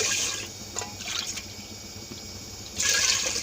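Water is poured onto washed rice and moong dal for sweet pongal, a close gushing splash in two bursts, one at the start and a louder one near the end.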